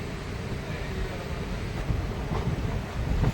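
The Deoghar–Howrah Mayurakshi Express, train 13046, pulls out of Deoghar station in the quiet of early morning. It is a steady low rumble with wind-like noise and a few faint clanks near the end.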